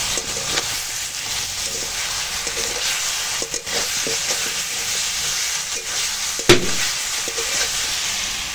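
Spiced masala for a catla fish curry fries in a pan with a steady, loud sizzle and hiss. There is occasional stirring, and one sharp clank near the end.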